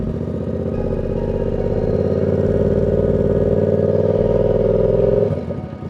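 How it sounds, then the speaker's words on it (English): A motorcycle engine revving close by, a loud sustained droning roar that holds steady for about five seconds and then drops off sharply. "maybe I need to just rev the bike up a little bit while I do it"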